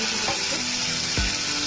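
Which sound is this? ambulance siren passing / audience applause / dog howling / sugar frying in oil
sugar frying in oil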